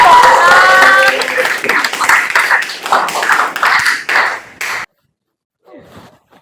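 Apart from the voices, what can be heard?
class applauding group 6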